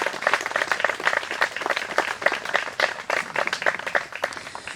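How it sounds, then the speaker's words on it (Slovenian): Audience applause for school music performers at the opening of a Carthusian apiary, a dense, steady round of many hands clapping with uneven, lively peaks. "prosim en velik aplavz tudi za naše današnje goste"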